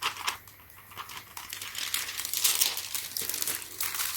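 Precut window tint film for a 2009 Honda Civic EX-L peeling and crinkling in hand, a close, continuous papery plastic rustle with brief crackling bursts.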